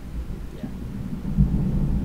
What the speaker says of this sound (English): Yep, that is a thunderstorm and a half.